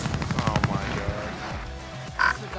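Rapid rattling bursts of gunfire in a competitive 2v2 shooter video game crowd the first second, then give way to quieter game sounds and a sharp short effect near the end.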